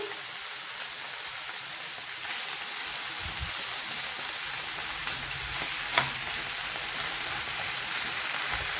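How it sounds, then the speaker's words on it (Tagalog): Broccoli cooks in a teaspoon of hot olive oil in a small pan, giving a steady, gentle sizzle with a faint rain-like hiss throughout and one soft clink partway. "in a small pan, we will put 1 teaspoon of hot olive oil. And we will cook our broccoli."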